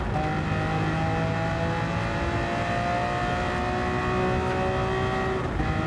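A Ferrari GTO race car engine in Gran Turismo 7 drones at a steady high pitch, its tone rising slowly as it holds revs, loud and continuous with no voices.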